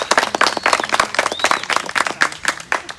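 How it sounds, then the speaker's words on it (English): A small studio audience at a staged radio-drama reading claps in a loose, uneven patter of individual hand claps, fairly close and brief, with a few voices mixed in. "Give yourselves a round of applause."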